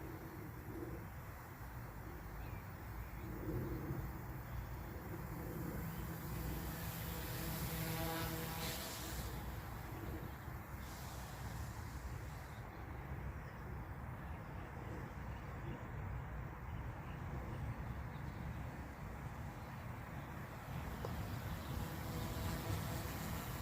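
An OMPHOBBY M2 EVO RC helicopter fitted in an EC145 scale fuselage hovering forward-facing outdoors, a steady whirring rotor drone held at constant level throughout, with birds faintly audible in the background.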